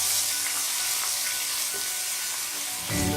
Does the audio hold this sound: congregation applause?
no